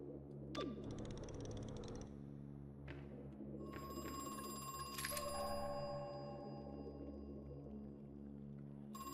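A telephone rings in the game Crow Country, heard as a few electronic ringing bursts over a low eerie drone, moderately close, with no talking.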